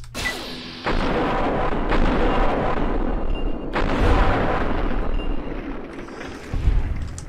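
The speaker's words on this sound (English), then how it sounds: "And you can stop shooting my robot right now." Gunfire at a robot in the video game Fallout: New Vegas: a few heavy, booming shots land at spaced intervals, each followed by a rumbling, echoing tail over a dense, continuous game background.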